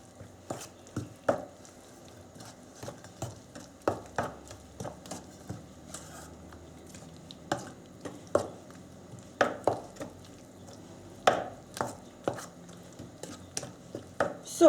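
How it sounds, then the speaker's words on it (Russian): Spoon scraping and tapping through potato pancake (draniki) batter in a bowl, a quick irregular run of clinks and knocks, close and moderately loud with no voices. "Все хорошенько перемешиваем."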